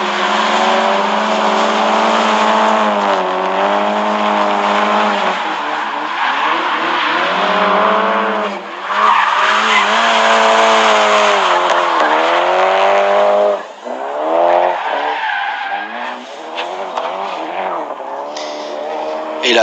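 A race car of under 300 horsepower drifts at a drift championship round in Mérignac. Its engine roars and wails as revs rise and fall, with tires squealing through long slides, while a commentator talks over it.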